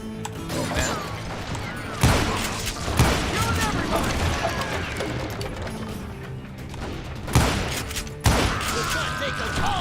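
Rapid gunfire bursts and sharp cracks from the Western shooter game Call of Juarez Gunslinger, with loud impacts and crashes around 2, 3 and 8 seconds over a dense, busy action soundtrack.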